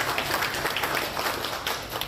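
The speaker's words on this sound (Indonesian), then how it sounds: "Tepuk tangan dulu untuk kita." A crowd at a mosque community gathering in Kendal claps together, a dense, even rush of many hands applauding at close range with no pauses and no talk.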